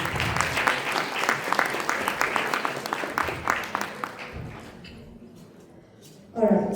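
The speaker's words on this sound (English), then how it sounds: "A round of applause for all our panelists." An audience applauds forum panelists, with steady clapping for about four seconds that fades out, followed by quiet and then a voice resuming.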